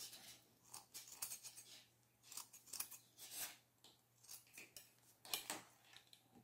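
Scissors snip through EVA foam in a series of close, crisp cuts, irregular blade clicks and rasps spaced over several seconds in an otherwise quiet room.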